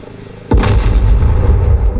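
Hellfire missile launched from an Apache AH-64 helicopter in the DCS combat flight simulator: one sudden loud blast after half a second of low hum, then a sustained roaring rush that continues to the end.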